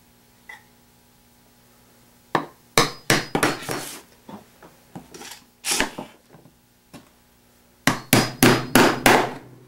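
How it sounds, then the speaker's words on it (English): A chisel is struck to cut a tenon in wood, giving sharp, loud woodworking thwacks in irregular groups, with a quick burst of five or six strikes near the end and short pauses between clusters. "We'll remove this material by making a cut from both sides with the chisel."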